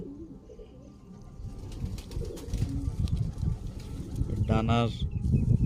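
A young male Dubai teddy breed pigeon coos under steady talk, with soft rustling and a brief flutter of wings nearby.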